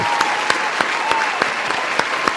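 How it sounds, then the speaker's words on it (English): A round of applause from a studio audience, steady clapping with a few sharper claps standing out, fairly close and continuous without talk. "I want a round of applause for all the adults now who know how to blow their nose."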